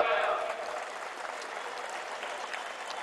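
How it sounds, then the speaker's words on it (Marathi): A large crowd at a Marathi political rally claps continuously, a dense, loud wash of applause that starts strongest and stays steady throughout. "अरे वाजवान टाळ्या"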